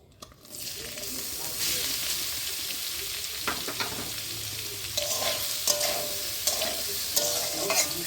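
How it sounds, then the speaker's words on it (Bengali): Soybean chunks fry in hot oil as a spoon stirs them, a dense close sizzle broken by repeated scraping strokes that grow busier toward the end, with no voices. "সোয়াবিনগুলো আমি লাল লাল করে ভেজে নেব।"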